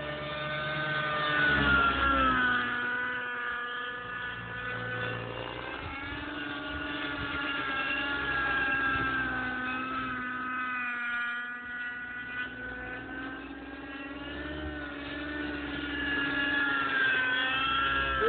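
A small motor on an RC helicopter runs continuously, a steady high whine with shifting pitch that rises and falls as the throttle changes, heard at moderate level without talk.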